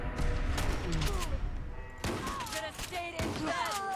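SPAS-12 shotgun shots in Fallout 4, heavy blasts a second or so apart, each followed by ringing echo and brief mechanical clatter, with someone talking over them.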